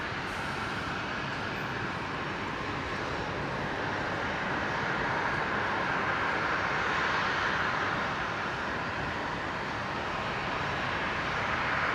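An aircraft arriving at Brisbane International Airport, heard as a steady, loud, broadband roar that holds with only slight swells throughout, with no talking.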